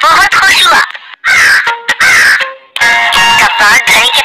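A crow in an animated moral story gives loud, harsh, repeated caws in short bursts separated by brief gaps, with a voice-like quality as if performed.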